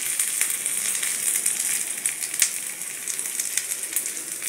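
Curry leaves, asafoetida and red chilli sizzle in hot oil for a dal tempering, a steady crackling fry with sharp pops throughout, close and moderately loud with no talking.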